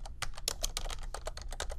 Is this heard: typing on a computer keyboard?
yes